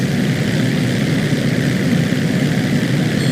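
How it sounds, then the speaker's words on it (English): Crop duster propeller plane in GTA V flying toward a jumbo jet, a loud, steady droning engine and buzzing propeller heard close and continuous, with no voices. "flying a crop duster toward a jumbo jet loaded with mercenaries"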